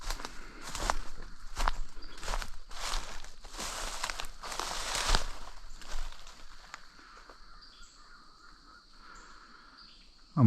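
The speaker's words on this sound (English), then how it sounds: "making all this noise walking through these dead twigs and dry leaves" Crunching footsteps through dry leaves and dead twigs in the woods while squirrel hunting in Arkansas, a series of close, uneven steps, then quieter ground with birds calling in the distance.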